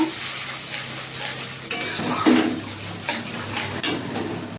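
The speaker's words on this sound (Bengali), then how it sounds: "কাজু বাদাম আদা টমেটো পেস্টটা দিয়ে দেবো দিয়ে একটু কষিয়ে নেব" A paste of cashew, ginger and tomato is sautéed in a hot pan over a dry red chilli tempering, giving a steady close sizzle with a few scraping stirs of the spoon against the pan and no talking.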